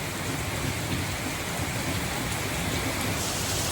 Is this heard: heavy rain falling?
yes